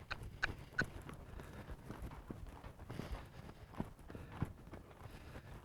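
An off-the-track Thoroughbred's hooves thud softly and irregularly on the ground during a training session, quiet scattered footfalls with faint background noise.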